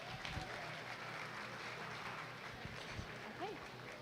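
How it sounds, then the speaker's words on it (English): Scattered applause from a crowd at a dairy goat show ring, moderately loud and continuous, with faint background chatter and noise. "Let's give a round of applause for all these Pee Wee showmen."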